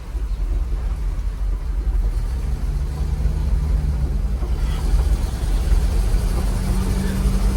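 1974 Chevrolet K5 Blazer driving on a test run, a steady loud low engine rumble with road noise filling the whole stretch, close and continuous.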